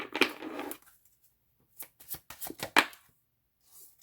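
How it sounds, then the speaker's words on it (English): A tarot card deck given a single shuffle: a soft riffling burst at the start, then a few quick, quiet taps and flutters of cards close by, with no talking. "we're going to give it one shuffle and see."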